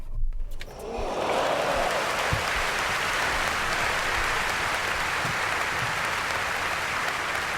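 A round of applause on a podcast episode, a thick, even wash of clapping that rises quickly after a brief pause and holds steady and loud to the end.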